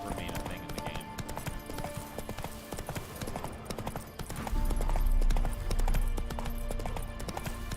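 Roach the horse's hooves clip-clop steadily in The Witcher 3, a continuous rhythmic trot with game music and effects beneath it, growing louder and heavier partway through; a voice talks over it.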